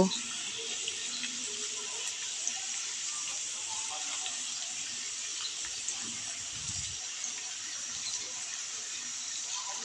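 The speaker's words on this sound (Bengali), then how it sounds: "অনবরত নাড়াচাড়া করে রসুন কুচিগুলোকে ভেজে নিতে হবে।" Chopped garlic frying in the same oil used for fried onions, giving a steady, continuous sizzle and hiss throughout, fairly loud and even with no speech.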